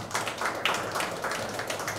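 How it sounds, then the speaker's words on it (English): An audience applauds at the launch of an MMA gym, a steady round of moderately loud clapping from a crowd. "a round of applause for them again."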